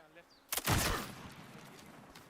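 Gunfire in a shooter video game, a single sharp burst with a quick double crack followed by a rolling decay, fairly faint and without talk.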